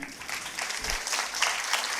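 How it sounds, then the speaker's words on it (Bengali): An audience at a community gathering and cultural event claps, a dense, moderately loud burst of applause that runs for the whole moment. "এবং জোরে করতালি।"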